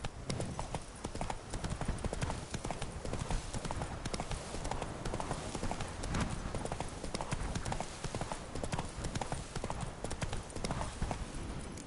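Roach the horse gallops in The Witcher 3, with steady, busy clip-clop hoofbeats running throughout at a constant loud level and no voices.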